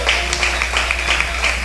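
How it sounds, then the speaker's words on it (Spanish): A church congregation applauds the Lord during a Sunday morning service, a steady wash of clapping hands from a nearby crowd with a low constant hum underneath. "Dale un aplauso al Señor en esta mañana."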